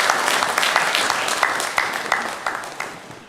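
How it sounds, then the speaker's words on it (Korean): A church congregation at a Sunday morning service claps together, a moderately loud burst of applause with some distinct hand claps standing out, gradually tapering off. "박수를 우리 하나님께 올려드리겠습니다."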